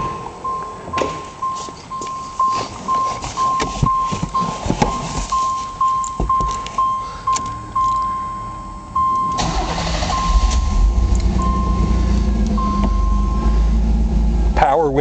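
A 1988 Pontiac Fiero GT with a 5-speed, showing 24,500 miles, cranks over in a long run of rhythmic starter pulses before the engine catches and settles into a steady, close idle.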